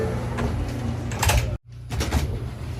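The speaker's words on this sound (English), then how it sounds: "Stand clear of the closing doors, please." Doors sliding shut on a New York City subway 5 train: a whooshing slide and thump, a brief silent break, then rumbling car noise, close and fairly loud.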